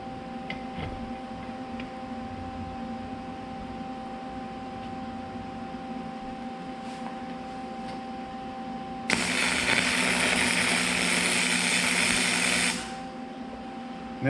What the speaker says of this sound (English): Now we'll tack the other one on.